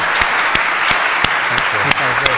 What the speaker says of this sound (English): And thank you, a round of applause.